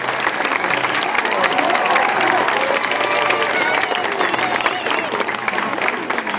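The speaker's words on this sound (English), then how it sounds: "So, lords and ladies, let's hear it for Dexter" Spectators at a tiger and panther show clap and cheer for a black panther, a dense, lively wave of applause with crowd voices mixed in, steady throughout.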